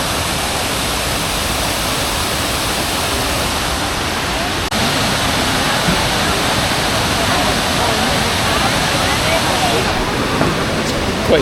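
A multi-level waterfall in Laos roars in a dense, unbroken rush of falling water, loud and steady throughout with no pauses.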